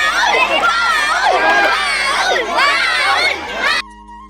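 A large, lively crowd at the Pola festival's children's slow cycle race cheers and shouts continuously, with many children's voices up close, fading out suddenly near the end.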